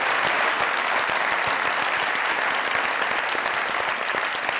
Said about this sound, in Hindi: बाबा जी तालियां जरा यार